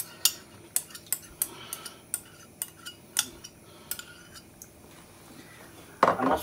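A metal spoon repeatedly taps and scrapes out the last of the tomato passata into a pan for an Italian pizza sauce, about a dozen crisp clinks in a steady rhythm, then a louder clatter.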